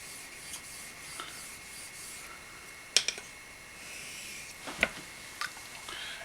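A kamisori razor is honed on a very high grit stone, giving a soft, continuous rubbing hiss in slow back-and-forth strokes with a few light clicks, close and quiet, with no talking.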